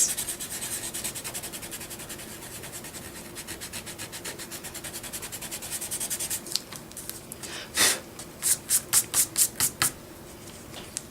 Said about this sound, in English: I keep talking about my Mono Sand Eraser. Erase all of that mess.